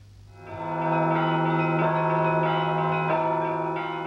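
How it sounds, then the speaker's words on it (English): Large bells at a former Soviet factory in Russia ring out with loud, sustained metallic tones. Fresh strikes come every second or so over a long resonating hum, with no voices. "now they're ringing literally at a factory that used to make symbols of communist power"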